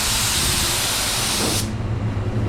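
A 3M Performance spray gun fitted with a 1.4 tip sprays automotive sealer in a loud, steady hiss that cuts off sharply partway through, leaving a low mechanical hum behind.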